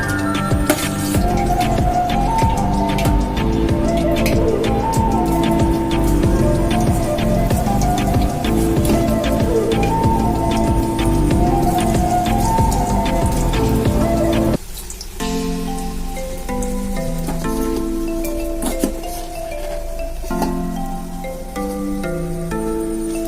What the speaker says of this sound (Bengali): এবার আমি আর যে পনিরগুলো আছে সেগুলোকে ভেজে নেব।